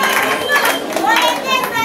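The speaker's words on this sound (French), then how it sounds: "Veuillez applaudir s'il vous plaît" Wedding guests applaud together in a dense burst of clapping that fills the moment, with voices and a child's chatter mixed underneath.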